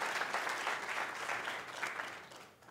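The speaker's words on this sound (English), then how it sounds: "final round of applause for our contestants." An audience at an oratorical contest claps for the contestants in a steady burst of applause that fades out toward the end, with no talking over it.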